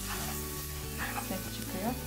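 Tomato paste sizzles and crackles as it is stirred into a hot flour mixture for arabaşı soup, a close, busy frying hiss with scraping stir sounds and a faint hum beneath.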